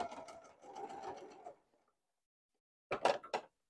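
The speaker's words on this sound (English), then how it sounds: "So I'm going to go forward, I'm going to back up, I'm going to stitch across, I'm going to backstitch" A sewing machine runs a short burst of stitching, pauses in near silence, then runs another brief burst, as when stitching forward and backstitching to secure a seam.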